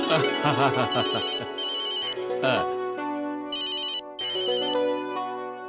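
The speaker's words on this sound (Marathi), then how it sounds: "जेठ्याचा फोन आहे." A melodic phone ringtone plays loudly and repeats its tune, with a voice singing along over the ringing.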